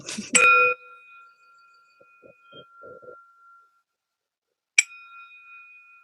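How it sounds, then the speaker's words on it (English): A meditation bell rings out clearly twice, the first strike near the start with a long shimmering decay, then a second strike later that rings on into quiet, with a few soft taps in between. "I don't know that you'll hear the bell, but you can see it."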